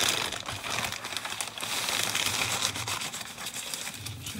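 Plastic wrap being peeled off the large body of a Testors 1:32 F-117A stealth fighter model kit, giving a close, continuous crinkling and crackling of thin plastic with many small rapid snaps throughout.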